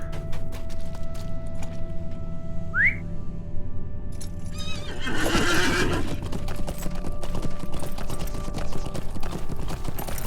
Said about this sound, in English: I got a horse here.